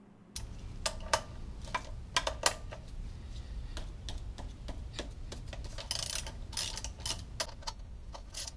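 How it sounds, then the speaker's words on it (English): A hand ratchet removing the lower pinch bolts on the left lower side of a vehicle, giving a steady run of quiet close clicks with a few louder ones, no talk. "I'm using a ratchet to remove the lower pinch bolts on the left lower side."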